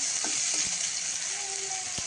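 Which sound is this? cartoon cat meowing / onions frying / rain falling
onions frying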